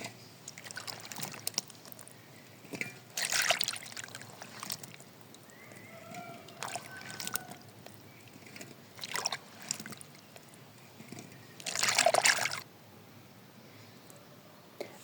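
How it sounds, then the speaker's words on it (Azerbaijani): Strawberries being rinsed in baking soda water for jam: several bursts of splashing and pouring water, with the loudest near the end, and quieter trickles and handling in between. No one speaks. "Daha sonra isə sodalı sudan çıxarıb yaxşıca yuyuram."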